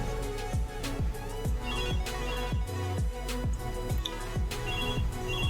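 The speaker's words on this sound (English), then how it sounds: "my phone's going off again" A mobile phone rings indoors, with a steady repeating electronic tone pattern that loops several times, loud and close, and no voices over it.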